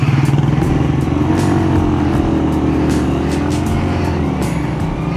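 A Honda CD 70 motorcycle engine running steadily and hot during a solo night ride through the Kalash mountains, a loud, continuous close-up drone with constant road and wind noise and no talking.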